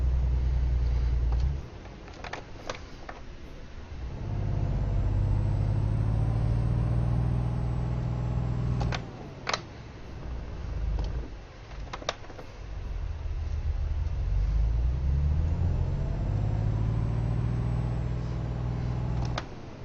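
Stock Volvo truck hauling a 75-ton missile load up a steep hill, its engine droning loud and laboured with rising and falling revs, two brief breaks and sharp knocks between long strained pulls.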